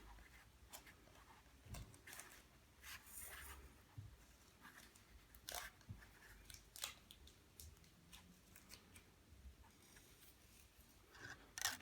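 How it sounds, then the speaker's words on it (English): Quiet, scattered snips and small handling clicks, close up and faint, like scissors trimming thread, with no talking. "So I'm just going to use my scissors now just to trim off my tails of thread."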